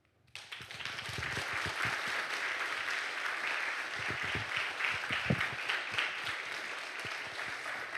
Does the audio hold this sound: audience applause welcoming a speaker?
yes